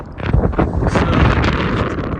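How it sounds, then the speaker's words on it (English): Strong, freezing wind buffets the microphone during a bike ride from Church Fenton to Garforth, with a loud, continuous low rumble and gusty roar throughout, no voices. "it's a bit too windy to fly the drone"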